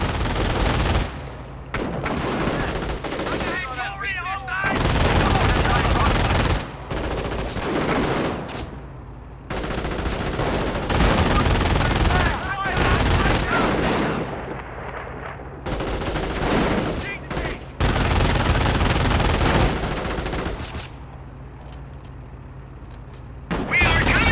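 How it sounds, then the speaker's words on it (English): Machine-gun and rifle fire from a half-track and infantry in the strategy game Company of Heroes, loud bursts of rapid gunfire in repeated volleys with short gaps between them. "they add additional firepower to the half-track's own machine gun"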